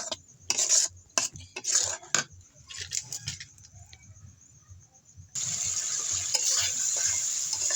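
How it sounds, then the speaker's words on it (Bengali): Spiced paste cooking with tomato in a pan, with scraping stirs and utensil clatter in bursts, then a steady loud sizzle of frying that takes over and continues alone. "এখন দিয়ে দিব টমেটো। তো রেসিপিটা টক ঝাল হবে। এই তো কিছুক্ষণ আবারও কষিয়ে নিব।"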